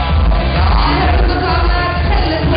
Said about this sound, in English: Oh, the crowd counting them down.